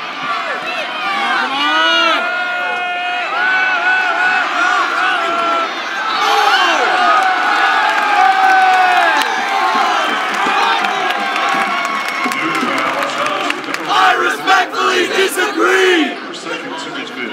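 Spectators at a basketball game in a gym chant and cheer, a large crowd of mostly young voices shouting and whooping in waves, loud and lively throughout with rising bursts near the end.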